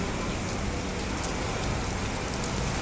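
Heavy rain pours down steadily and loudly on a city street, a dense, unbroken hiss with no voices over it.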